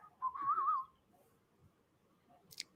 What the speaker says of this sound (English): I'll just sit here and whistle for everybody.